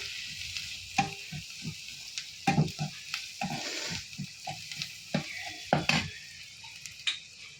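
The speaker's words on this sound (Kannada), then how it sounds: "ನೆಕ್ಸ್ಟು ಸ್ವಲ್ಪ ಅರಿಶಿನ, ಆಮೇಲೆ ಮತ್ತೆ ಚೆನ್ನಾಗಿ ಫ್ರೈ ಮಾಡ್ಕೊಳ್ಬೇಕು" Chicken liver frying with green chilli and turmeric in a pan, a quiet sizzle broken by a series of distinct scraping and tapping stirs at close range, no talking.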